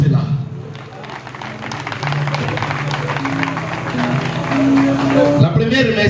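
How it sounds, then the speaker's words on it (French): Audience applause at a podium inauguration, close and fairly loud clapping that builds after a brief dip, mixed with crowd murmur and some voices. "Est-ce qu'on peut applaudir pour cela?"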